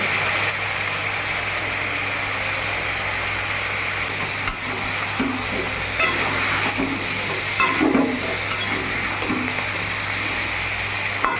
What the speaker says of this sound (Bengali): এবার এটাকে কিছুক্ষণ কষতে দিতে হবে